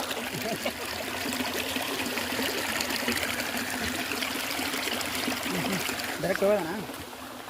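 Steady, broadband rush of stream water flowing near Malla waterfall, close and continuous for the whole stretch, with voices briefly audible over it near the end.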